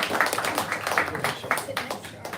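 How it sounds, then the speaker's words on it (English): Audience applause at an evening talk on Henry David Thoreau, a steady patter of many hands clapping throughout, moderately loud and fairly close, with no voices over it. "Please give them a round of applause."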